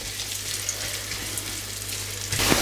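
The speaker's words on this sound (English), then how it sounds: "now I'm going to add my onions in and also my whole spices and just give them a mix" Onions and whole spices hitting hot oil for a chicken kofta curry, giving a loud, steady hiss of sizzling that swells sharply at the very end, close and without talk.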